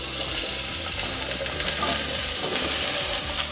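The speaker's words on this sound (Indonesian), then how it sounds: "setelah minyak panas, tumis bawang putih. Bawang putih tumis harum, masukkan semua bahan." Garlic and other ingredients stir-fry in hot oil with a steady, close crackling sizzle, broken by faint scraping and stirring movements, unbroken from start to finish.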